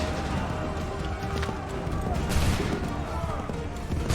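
Musket volley fire in Assassin's Creed 3, ragged bursts of shots cracking amid battle noise, with voices shouting over the din and a heavy thump near the middle.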